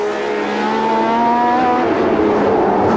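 A 1976 Ferrari Formula One car, the previous year's championship winner, screams past on a street circuit in the US Grand Prix West, a loud high engine wail that falls in pitch as it goes by, with no talk.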